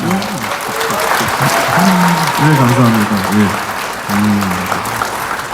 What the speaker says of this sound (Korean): 네, 여러분 박수 한번 주시죠